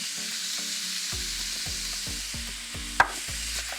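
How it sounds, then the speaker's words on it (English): Ground meat browns in a pan with a loud, continuous close sizzle, broken by rhythmic scraping stirs in the second half and a sharp utensil knock near the end; no talking. "all we want to do is just brown that meat"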